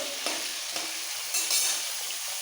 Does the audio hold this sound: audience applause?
no